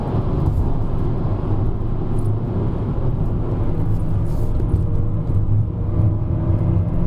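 A Volkswagen Vento 1.2 TSI engine drones at high rpm on a mountain hill climb, a loud, steady rumble from inside the cabin with no voices.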